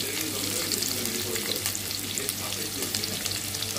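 Onions and green chillies fry in a hot pan with a steady, loud sizzle and a crackling hiss, broken by occasional stirring scrapes and with no talk over it.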